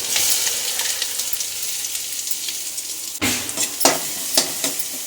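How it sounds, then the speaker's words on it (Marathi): Ginger, garlic, chili, coriander and fennel powder sizzle in hot oil for tempering, a bright close crackle that jumps louder as the spices hit and are stirred around the pan. "तेल गरम झालं आहे तर ही अद्रक लसूण आणि मिरची जी धने आणि बडीशेपची पावडर आहे घालूया फोडणीला"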